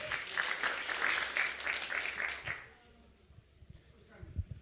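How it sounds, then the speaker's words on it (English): Audience applause at a community event on youth-friendly HIV services, a broad crowd of clapping filling the first two and a half seconds before fading out into quieter room noise with a few scattered sounds. "Can you all give a round of applause?"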